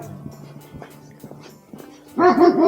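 Dogs at a mill bark and whimper, starting with scattered low yelps and whines, then breaking into a louder burst of excited barking near the end.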